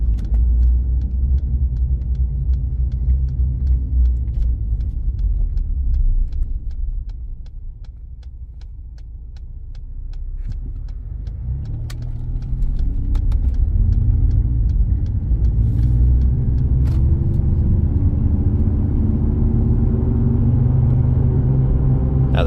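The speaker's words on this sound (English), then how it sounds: "The tires are definitely noisy." Tire and road roar inside a 2018 Ford F-150 Lariat pickup on the move, a steady loud low rumble that eases briefly midway and then swells again as the truck picks up speed.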